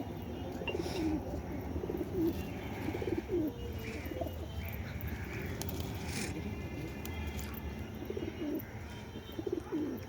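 Racing pigeons scuffle and fight, giving soft, repeated throaty coos and a few light chirps over a faint background, with occasional scraping and wing movement.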